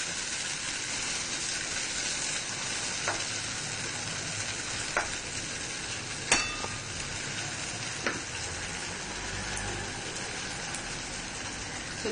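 Potatoes in a tangy sauce bubble and sizzle softly in a pan on a slow flame, a steady low crackle broken by a few faint clicks and stirring taps, with no talking.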